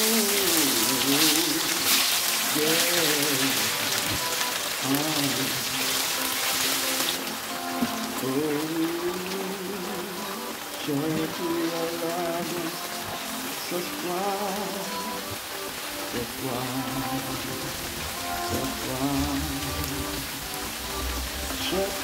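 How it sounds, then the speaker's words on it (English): Sweet potatoes fry in a pan with a steady, dense sizzle like rain on a surface, continuous for the whole stretch under a voice talking over it. "now we are going to fry the potatoes"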